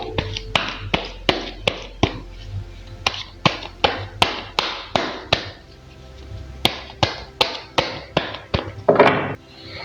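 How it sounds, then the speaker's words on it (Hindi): Tarot cards being shuffled and squared, a steady run of about twenty crisp, close taps and slaps at a brisk, fairly even pace, ending in a short rustling burst. "पहले ज़रा कार्ड्स को शफल कर लेते हैं।"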